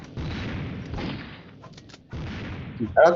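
Bursts of gunfire in the mobile game Mini Militia rattle in two long volleys with a short pause between, ending in a sharper blast.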